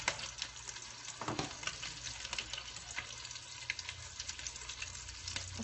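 Meatballs frying in a pan for spaghetti and meatballs, a steady close sizzle and crackle that holds throughout with a brief louder stir or shuffle near the start.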